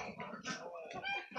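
Americana chickens cluck quietly in a backyard flock, with short, faint clucks and calls that overlap in a brief, soft burst.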